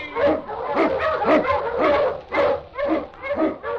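An Eskimo husky lead dog in an old radio drama barks loudly and close up in a steady run of sharp barks and yips, repeated rhythmically with little else heard.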